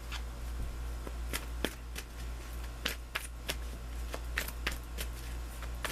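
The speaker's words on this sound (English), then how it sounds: "Let me draw you an additional guidance card" Tarot cards being shuffled and drawn for a guidance card, a series of quick crisp riffling flicks and soft slaps in an irregular rhythm, close and fairly quiet, with no talking.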